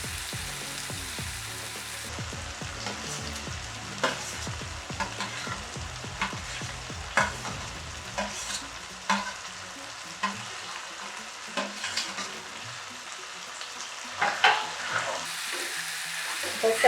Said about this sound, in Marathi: हे सगळं व्यवस्थित एकजीव करून घेऊया